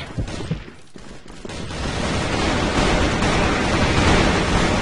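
Gunfire in the online shooter game Crossfire: a dense, sustained burst of rapid automatic shots that swells into a loud, continuous roar of firing, with no speech.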